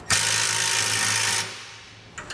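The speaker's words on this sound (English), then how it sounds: "And then we'll tighten it down with a half inch socket." A power tool with a half-inch socket runs down a nut on a carriage bolt while a B and W fifth wheel hitch is fitted to a 2020 Toyota Tundra. There is one steady, loud whirring burst that stops abruptly, followed by a couple of faint clicks.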